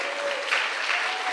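Church congregation clapping together in a continuous, dense burst of applause, filling the room evenly at a steady, fairly loud level.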